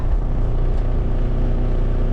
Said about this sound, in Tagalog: Ngayong in-start ko na yung truck